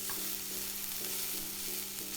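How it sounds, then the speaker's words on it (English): Onions or shallots stir-frying in a pan on an electric cooker, a continuous hiss and sizzle with regular soft scraping strokes about every half second, close and alone. "for the onions or shallots to all separate, and you as the cook to just keep them moving in the pan"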